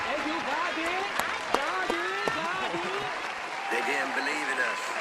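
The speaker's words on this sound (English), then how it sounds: "Clap it up." A crowd bursts into applause, a steady wash of clapping mixed with loud calls and shouted voices over about five seconds, with a few sharp individual claps standing out.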